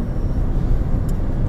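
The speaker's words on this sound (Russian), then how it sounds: "Вот с кондиционером автомобиль тоже едет" A Lada Granta with an automatic gearbox drives with its air conditioner on, a steady low cabin rumble of road and engine noise under a constant airy hiss, with no talking.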